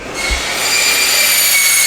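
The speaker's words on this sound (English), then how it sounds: "You guys want to angle grind the tab out." An angle grinder runs loud and steady with a high whine while cutting the tab out of a tail light for a Mercedes C63S AMG, continuous and close with no talk.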